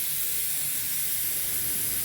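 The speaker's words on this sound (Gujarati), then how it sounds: "અંદરથી બધી પ્રેશર કાઢી લઉં છું બરાબર સીટી ઊંચી કરીને આવી રીતે કાઢી લેવાનું" Pressure cooker releasing steam as its whistle weight is lifted after cooking tindora shaak, giving a steady, loud, close hiss that holds level throughout.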